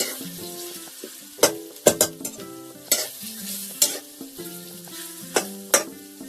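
Soaked chickpeas frying with onions in a pan, a steady sizzle broken by a spoon's repeated scraping stirs and knocks against the pan, close up with no talking.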